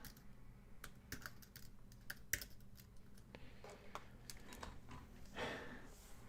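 Keys clack on a computer keyboard while a name is entered for a new layer in a digital comic drawing session, irregular taps and short bursts over a quiet room, fairly faint with no talking.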